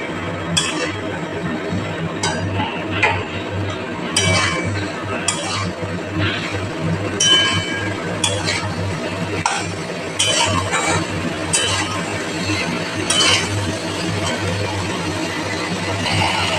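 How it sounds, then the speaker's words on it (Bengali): Potatoes and okra are sautéed in a spice paste for a thin rohu fish curry, with a spatula clinking and scraping against the pan in steady, irregular taps over a continuous low background. "আমি এবার আলু ঢেঁড়স দিয়ে একবার কষে নেব।"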